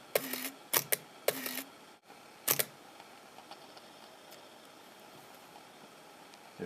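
Mechanical clicks and clunks from a Leica S2 medium-format camera body being opened up to expose the shutter and sensor, a few sharp close snaps in the first seconds followed by quiet room tone.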